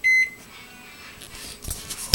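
A kitchen timer being set for 20 minutes gives a short, sharp electronic beep at the start, followed by quieter faint clicks and handling noises as the buttons are pressed.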